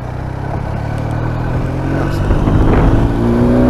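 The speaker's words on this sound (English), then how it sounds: "that's a big tractor" A large tractor's heavy engine rumbles and grows steadily louder as it approaches and passes close by, its deep drone building toward the end.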